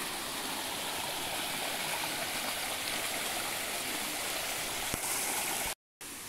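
A creek runs downstream in a steady, continuous rush of flowing water, close and fairly loud, with no talking and a brief dropout near the end.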